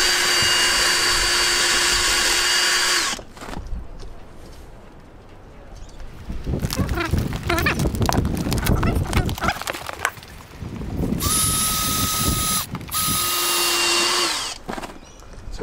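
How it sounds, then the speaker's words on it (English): Loud power drill whines in long bursts at the start and end as rivets are drilled out of a boat enclosure frame, with clattering and metallic scraping of working in between. "we just drill these out like this."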